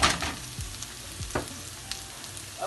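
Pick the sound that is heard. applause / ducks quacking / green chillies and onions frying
green chillies and onions frying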